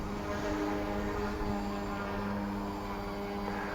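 An XK K130 small model helicopter whines steadily with a buzzing rotor hum, close by and fairly loud throughout, with no talking.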